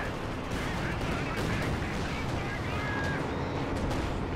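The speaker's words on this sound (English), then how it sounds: "It was an IL-2 bomb strike and it was Sturmovik" IL-2 Sturmovik bomb strike in Company of Heroes 2, a steady dense barrage of blasts and gunfire-like crackling rumbling continuously at moderate distance.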